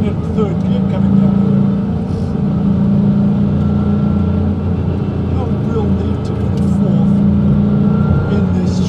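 An air-cooled Porsche 911 G-series street car with 997 Cup performance parts drives in third gear with a steady, close engine drone that rises and falls slightly as it revs, with a voice talking over it.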